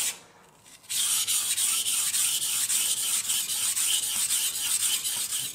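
A kitchen knife blade rubs steadily across a whetstone in a close, continuous hiss of rhythmic sanding strokes as the bevel is polished and the edge refined, with no voices.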